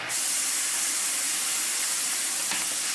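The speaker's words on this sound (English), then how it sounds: "we need to deglaze this" A cast iron pan being deglazed after searing pork with apples in olive oil and butter, giving off a loud, steady steam hiss that holds evenly for about three seconds with no talking.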